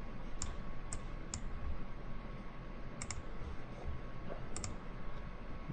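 Computer mouse clicking in a quiet room while starting Virtual PC: a few sharp, close clicks in small clusters, single and paired, separated by near-silence and faint background hum.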